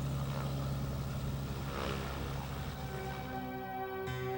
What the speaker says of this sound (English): During the busy summer, the airport pulses with engine noise.